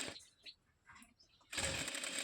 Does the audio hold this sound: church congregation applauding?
no